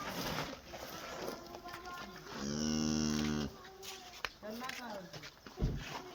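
A second-calving dairy cow at a cattle sale moos once in a long, loud, tonal call, with someone talking before and after it.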